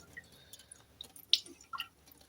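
Water is poured onto a pair of old pink shoes, soaking the fronts, producing faint, scattered drips and soft wet squishes at close range in an otherwise quiet space.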